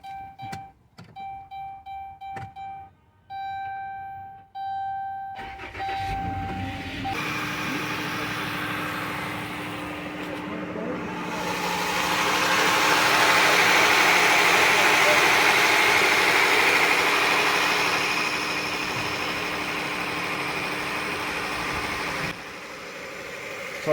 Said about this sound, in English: Ahorita debería de prender el carro.